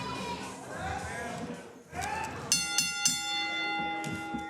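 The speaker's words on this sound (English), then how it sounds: "The bell is rung, and here we go." Ring bell clanging to open a wrestling match at a CWF Voltage event, several sharp metallic strikes ringing out loud over a commentator's voice and crowd noise.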